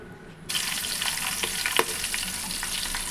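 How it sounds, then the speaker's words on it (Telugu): Bay leaves and green chillies hitting hot oil for prawn biryani, a sudden loud sizzle that bursts in after a brief quiet moment and continues with crackles. "ఇవి బాగా వేగనివ్వండి"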